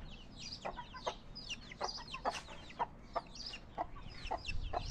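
A small rooster clucking in a quick series of short, faint clucks over a low background hum.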